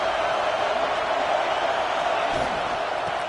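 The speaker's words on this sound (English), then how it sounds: "This crowd is trying to inspire this defense to make a big red zone stop." Stadium crowd in the video game College Football 26 at an Arkansas vs Kansas State game, a steady wash of cheering and roaring fans urging on the defense near the red zone, continuous and fairly distant.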